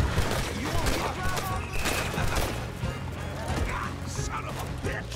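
Rapid gunfire in a Red Dead Redemption 2 shootout, repeated loud shots cracking in quick succession over game ambience, with scattered louder bursts throughout.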